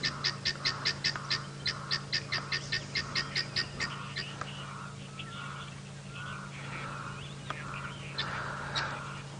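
Guinea fowl call on an early-morning safari drive, first with a rapid, rhythmic run of harsh, repeated cries, then with scattered, looser calls over a low constant hum.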